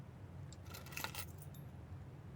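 Car keys jangling in the video game Blue Prince, a short bright metallic jingle near the middle, close and clean over faint low background hum.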